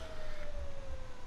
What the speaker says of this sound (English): Only when you got the sirens on.